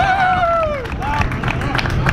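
Applause and cheering from a crowd greet Stewart at a loudest exhaust car competition, a busy wash of clapping and voices opening with a couple of bright gliding whistle-like tones.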